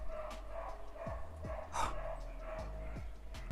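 A dog barks repeatedly in short, sharp yaps at irregular intervals, heard at moderate distance over a low steady background hum.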